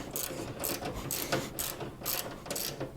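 3/8 inch socket ratchet tightening a bolt, a close, rhythmic series of about six quick clicking bursts as the handle swings back and forth, with no talk.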